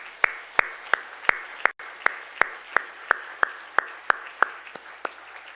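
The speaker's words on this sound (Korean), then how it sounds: "우리 왕이신 하나님께 박수 올려드리겠습니다." A church congregation at an anniversary revival service claps in unison, giving about fifteen crisp, evenly spaced claps in a steady rhythm against a quiet background.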